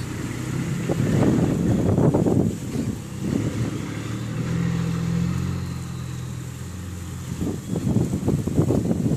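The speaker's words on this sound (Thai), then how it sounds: "ต้นไม้ครับต้นไม้นี่ลมพัดเลยครับแรง" Strong wind gusts through trees outdoors, roaring in heavy, rumbling surges that buffet the microphone, rising and falling over several seconds with no talk.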